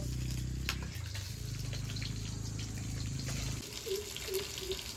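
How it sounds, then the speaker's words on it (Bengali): Water runs steadily close by while potatoes are washed in a village kitchen, a continuous gushing flow with a low hum underneath and faint splashes and clinks from handling. "আলুগুলো এখন আমি ধুয়ে নেব।"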